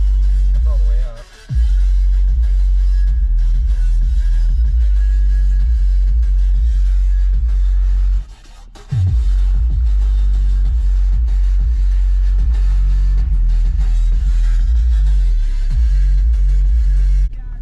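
Heavy music bass booming from a subwoofer in an extended-cab truck with the bass knob turned all the way up, loud, deep and throbbing continuously with two brief dropouts.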